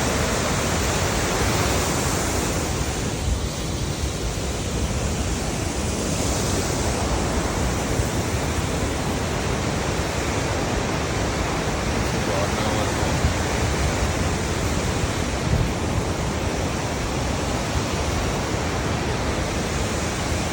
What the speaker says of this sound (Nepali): यो चाहिँ रूप्से झरना है गाइजहरू, एकदमै राम्रो छ दृश्य।